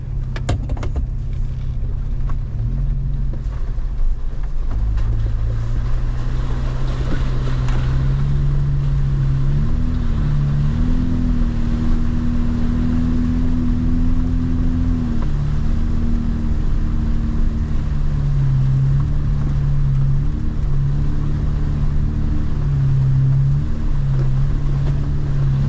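Off-road vehicle driving through a pond on a Drummond Island trail, a steady loud engine drone with sloshing water throughout and rising engine pitch midway.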